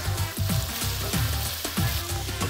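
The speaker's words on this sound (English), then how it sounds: "Fry the onion until the moisture evaporates, and then they start to turn beautiful and golden in color." Sliced onion frying in a pan with salt, curry leaves and green chilies, a steady close sizzle with soft stirring scrapes recurring every half second or so, no voices.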